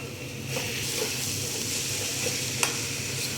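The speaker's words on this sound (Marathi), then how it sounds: "याच्यामध्ये मिरपूड घालून घेतले मी आणि परत एकजीव करून घेणार आहे" Modak filling of almonds, cashews and pepper is stirred in a hot pan, a constant soft sizzle and hiss under scraping strokes, with one sharp clack from the spoon.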